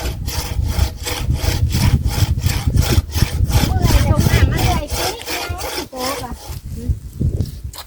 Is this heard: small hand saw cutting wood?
yes